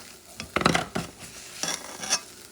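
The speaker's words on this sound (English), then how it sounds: "Stir it around." Chuck steak fried rice stirred around in a pan on an electric stove makes soft scraping and clinking strokes in a few quick clusters, close and fairly quiet.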